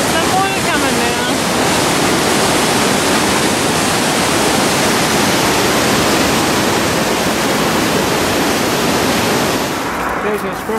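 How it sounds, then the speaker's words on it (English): Steady, dense rush of a waterfall in Germany's southern Black Forest fills the whole clip, loud and close, a continuous broadband roar with no letup. "There's some water coming down"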